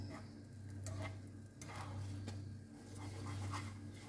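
Fried rice is stirred and mixed in a pan alongside an omelette, giving steady scraping strokes over a continuous low sizzle, close and fairly quiet, with no talk.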